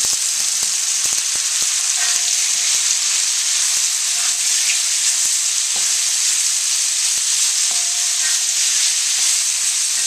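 Pork and bok choy stir-frying in a pan on the highest heat, a loud, dense, continuous sizzle with occasional clicks and scrapes of a utensil.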